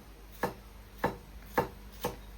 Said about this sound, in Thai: หั่นให้มันเรียบร้อยเด้อ